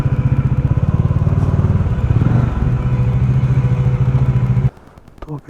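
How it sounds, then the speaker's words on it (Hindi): A motorbike is ridden in with its engine loud and close, chugging with a steady pulse and one small rev midway, then cutting off abruptly near the end and leaving brief faint knocks. "जगह तो है अपनी बाइक निकलने की अंदर।"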